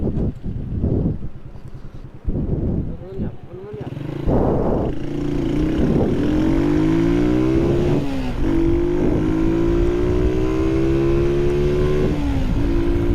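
Car engine revving up and accelerating hard during a street race against another driver, a rising engine tone building loud and close after some early talking, with wind noise over the microphone.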